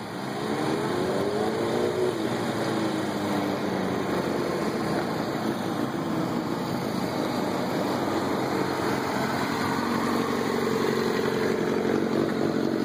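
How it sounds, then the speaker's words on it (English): A Honda CBR1000 sport motorcycle with a broken chain runs its engine at a steady idle nearby, a constant mid-pitched drone with a faint whine that holds its level, with no one speaking. "It is a rarity to see my bike in action in here."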